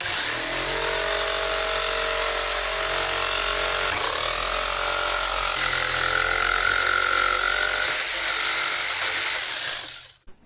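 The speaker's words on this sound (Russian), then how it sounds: "буду использовать лобзик." An electric jigsaw cuts through a plastic barrel, giving a loud, steady high-pitched motor whine with a buzzing blade that shifts slightly in pitch before cutting off abruptly at the end.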